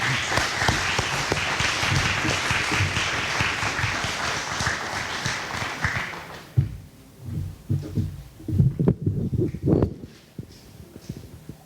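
An audience at a School of Packaging ribbon-cutting ceremony claps steadily to welcome a speaker, then the applause stops abruptly and leaves scattered thumps and footsteps nearby.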